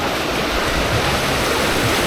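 Ocean surf at Canasvieiras beach in Florianópolis, a steady broadband wash of breaking waves filling the whole stretch at fairly high level, with no voices and a faint touch of wind over the roar.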